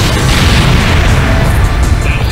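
Missile explosions blasting through a wall inside a missile silo in Ace Combat Joint Assault, a loud sustained rumbling boom filling the whole moment with dense roaring noise.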